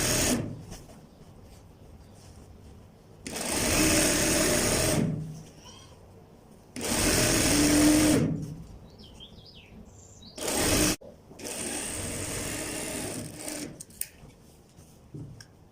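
Sewing machine stitching a pajama leg seam in several separate bursts of steady mechanical whirring, each a few seconds long with quiet pauses between them.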